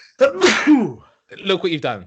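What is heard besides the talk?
sneeze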